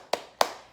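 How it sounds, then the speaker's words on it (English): Two sharp hand claps, close and distinct, roughly a third of a second apart, during a children's clap-along song. "clap your hands"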